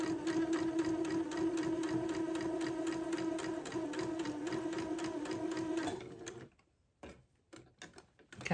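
Sewing machine stitching the second pass of a French seam on an heirloom bubble romper, a steady rapid whirring with even ticks that runs close and loud, then slows and stops near the end.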